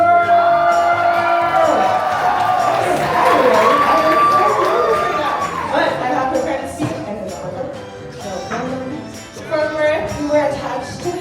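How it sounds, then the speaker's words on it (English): Wedding guests at an estate reception cheer, whoop and applaud for a bridesmaid, with loud shouting and crowd noise that rises, dips, and swells again near the end. "we're going to give a round of applause to one of the bridesmaids."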